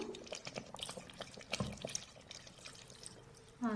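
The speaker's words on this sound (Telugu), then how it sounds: "ఇప్పుడు ఇందులోకి సరిపోయేంత వాటర్ పోసుకున్నాము" Water poured into a cooking pot during preparation of a goat head masala curry, a soft continuous splashing pour with light drips, close and fairly quiet, with no talking.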